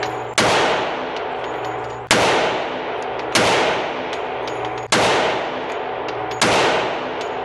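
Five loud gunshots from an FNX 45 Tactical pistol at a shooting range, fired double action at a steady pace about one to one and a half seconds apart, each a sharp crack with a ringing tail, no talking.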